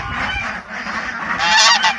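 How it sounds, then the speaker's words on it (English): Geese honk loudly and repeatedly among chickens and a flock of ducks on a small farm, the harsh calls layered and continuous, swelling louder toward the end. "There's a goose."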